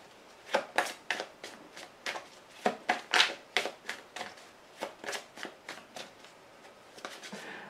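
Tarot cards are shuffled by hand in a quiet room, giving a rapid series of crisp riffling flutters and soft slaps, each burst short and close.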